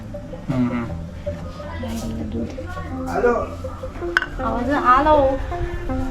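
Cake batter for a semolina rava cake is stirred quickly in a bowl, a spoon clinking and scraping against the sides in short bursts while someone talks over it.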